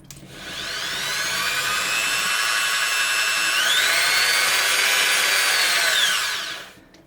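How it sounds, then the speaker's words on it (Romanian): A steady high-pitched power tool whine runs for several seconds as sandpaper sands metal, rising in pitch midway, then stops; no one speaks. "Și începem să șlefuim."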